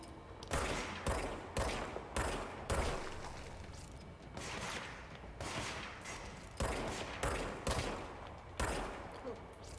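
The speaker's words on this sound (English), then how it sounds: "Oh, somebody's shooting." Bursts of gunfire from the video game Control, loud repeated volleys of shots in rapid clusters throughout, with brief pauses between bursts.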